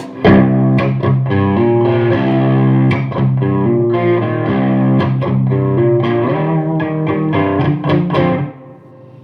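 An electric guitar through a Marshall DSL amp on its crunch channel plays a string of strummed chords with slight crunchy overdrive, steady and loud before the notes stop near the end.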